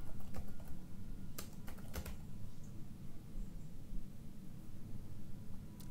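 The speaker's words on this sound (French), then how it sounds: "Bon, je tape un peu n'importe quoi, mais c'est pour vous montrer comment ça fonctionne." Fingers typing steadily on the built-in keyboard of a CrowView Note laptop running a Raspberry Pi, a dense run of close, light key clicks with a few sharper taps, no voices.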